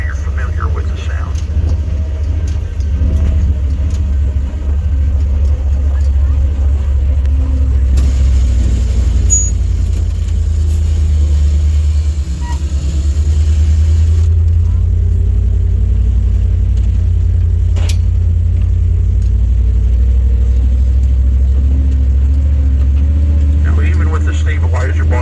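A dune buggy on a sand dune tour in Florence, Oregon runs with a loud, constant low engine rumble while a motorized stabilizer bar lowers with a whirring mechanical drone partway through.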